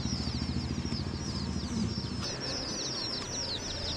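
Repeated high warbling bird calls, like a turkey gobbling or chattering, over a low rumbling background hum.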